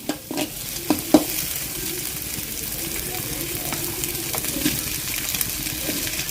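Green chillies and curry leaves fry in a pan, crackling and sizzling steadily, with a few sharp pops and spatula scrapes near the start.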